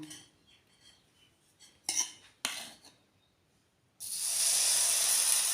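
Two sharp clinks of metal on a pan, then a loud, steady sizzle bursts in and continues as varagu rice appam batter hits the hot oiled pan.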